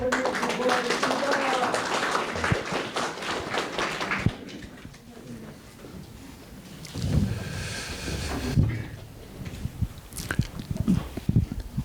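An audience at a Korean community association public hearing in Atlanta applauds as a pastor is introduced. The clapping is dense and sustained at first, then tapers off into quieter room noise and scattered sounds.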